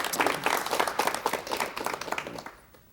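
A studio audience on a 1987 KBS television talk show applauds a guest with a dense burst of clapping that fades out toward the end.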